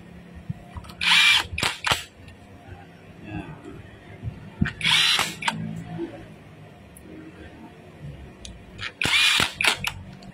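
Power drill bursts during an HD3 overhaul, three separate whirring runs spaced a few seconds apart with mechanical clicks and handling noise between, fairly close.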